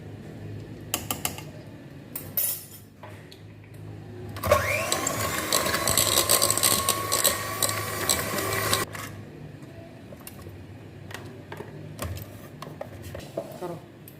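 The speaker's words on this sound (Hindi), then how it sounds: "इसमें 1 चमची ये वनीला एसेंस डालना है और फिर थोड़ा सा बीट करना है।" An electric mixer whirs for several seconds while beating walnut cake batter with vanilla essence, bracketed by clinks and bowl handling sounds; a voice speaks around it.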